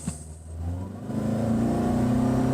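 A 2023 Toyota Camry Hybrid XLE in sport mode launching hard from a brake-torque start, engine note rising steadily into a strong droning hum that builds and holds, heard from inside the cabin.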